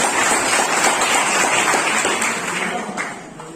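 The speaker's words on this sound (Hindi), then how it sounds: "राजेश कुमार का जोरदार तालियों के साथ स्वागत कीजिए" Loud, sustained applause from a crowd at an NSS Foundation Day celebration welcomes a named guest, a dense wash of clapping that holds steady for several seconds before easing slightly at the end.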